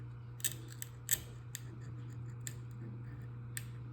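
Glass cutter scoring and snapping pieces off a stained glass pattern, a handful of sharp separate clicks and ticks close up over a steady low hum, no talk.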